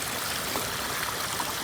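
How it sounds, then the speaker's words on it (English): Water from a pondless waterfall fountain in a lakeside garden splashes and trickles steadily, a continuous broadband rush with no voices. "we're coming around to their gorgeous little fountain that they have going on here"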